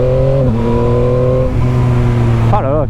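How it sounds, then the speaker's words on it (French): A Yamaha MT-09 motorcycle accelerates hard and close, its engine pitch stepping down abruptly at each quickshifter gear change, a few shifts in succession before a final wavering rev. "Ah, écoutez-moi ce doux bruit du shifter."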